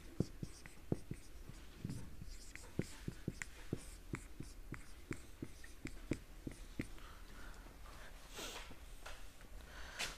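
Chalk tapping and scraping on a blackboard during a lecture, a steady run of sharp clicks and short strokes at close range with faint room noise and no talk.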